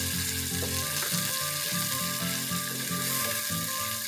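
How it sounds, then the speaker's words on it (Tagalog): Chicken and tomatoes sauté in a pan for Bicol Express, giving a loud, steady frying sizzle up close, with rhythmic scraping and clinking as the mixture is stirred over and over. "Itutuloy lang natin ang ating pagsangkutsa sa ating mga pangunahing sangkap."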